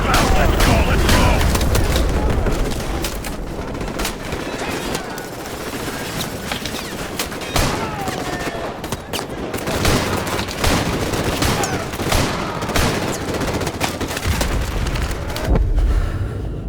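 Dense gunfire and explosions from Call of Duty Modern Warfare Remastered roar almost continuously, loud and close, with bursts of rapid shots and booms under shouted game voices.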